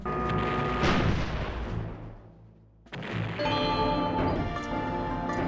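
Turret gunfire from the Star Fox Adventures video game: loud, booming blasts with crashing bursts, a short lull, then another run of heavy firing topped by bright ringing tones.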